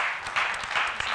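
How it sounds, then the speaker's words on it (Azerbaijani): A television studio audience applauds the doctor in one short, dense burst of clapping. The applause is close, fairly loud, and runs for about a second. "Alqışlayaq doktorumuzu."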